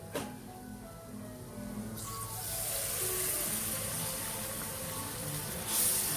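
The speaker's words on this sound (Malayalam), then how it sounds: "1 കപ്പ് വിനാഗിരി ഒഴിച്ചു കൊടുക്കാം." Vinegar poured into a fish pickle masala, a steady liquid gush that starts suddenly, swells and holds, close and moderately loud, with no one talking.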